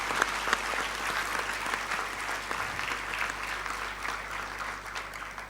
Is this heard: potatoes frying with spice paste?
no